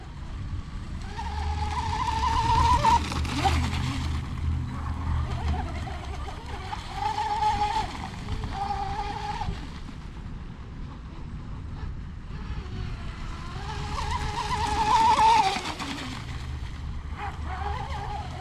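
An RC boat under propeller power runs at roughly 30 miles an hour, its buzzing motor note rising and falling in long sweeping passes with water hiss beneath, fairly close and steady, with no talk.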